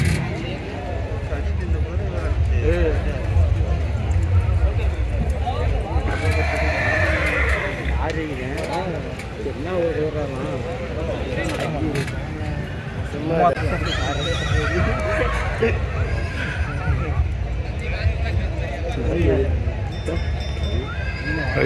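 Horses neigh and whinny repeatedly at an outdoor horse beauty show, with hooves clip-clopping and a crowd murmuring, while a voice talks over much of it and a car can be heard passing.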